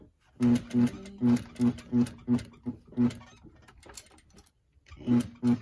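Sewing machine back-tack stitching a blouse collar, short rapid bursts of mechanical whirring in stop-start rhythm, close and clear, with a pause before a final burst.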